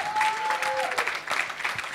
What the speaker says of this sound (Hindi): सर सदानंद शेट्टी जी के लिए जोरदार तालियां